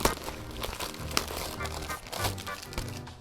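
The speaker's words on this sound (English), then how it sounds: "I think I can just rip it open." CD packaging is torn open by hand, bursts of crinkling plastic and crackling wrap up close, with several sharp snaps and rustles over a few seconds.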